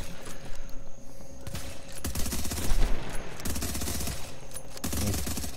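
Rapid bursts of gunfire crack out in The Division video game, a sniper rifle among the shots, with dense overlapping reports and mechanical clatter filling the whole stretch at close range.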